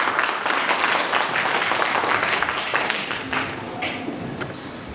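Children and parents at a school literacy event clap together in a burst of applause that is loud at first and then fades over a few seconds.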